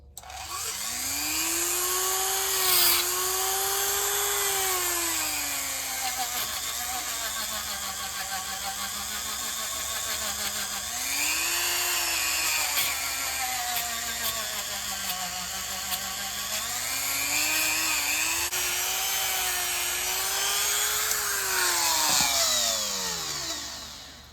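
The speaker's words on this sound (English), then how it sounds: "let's give the wheels the whiz wheel treatment" A rotary whiz wheel whines at high speed while cleaning the wheels of a Lionel 3484 operating box car, its pitch rising and falling repeatedly as it is pressed on and eased off, loud and continuous with no talking.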